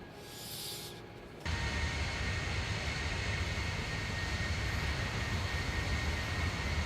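Embraer E-190 jet engines in X-Plane 12 spooling up for taxi, a quiet hum that jumps into a loud, steady broadband roar after about a second and a half and holds.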